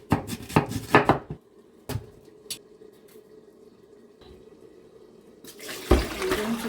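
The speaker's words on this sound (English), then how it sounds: "wash my yam properly" Yam being washed under a running tap, a steady stream of water with bursts of clattering and splashing at the start and end as the pieces are handled, close by.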